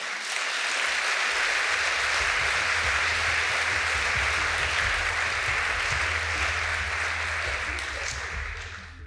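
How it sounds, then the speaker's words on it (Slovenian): Steady applause from an audience at a talk on positive psychology, a dense wash of clapping lasting about nine seconds, starting abruptly and fading slightly at the end. "Dajem aplavz"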